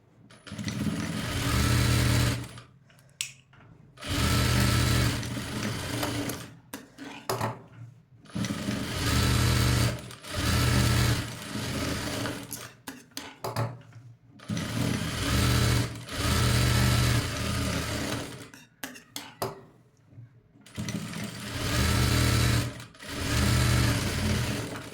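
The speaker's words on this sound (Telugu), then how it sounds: "సో ఇప్పుడు మనము సైడ్స్ అనేవి స్టిచ్ చేసి వేసుకుందాము" Sewing machine stitching the side seams of a cutwork designer blouse, running in repeated bursts of steady whirring with short pauses between, loud and close with no talk over it.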